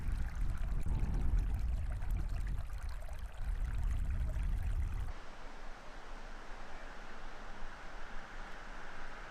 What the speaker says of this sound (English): A lovely Stony Brook stained bronze by tannins.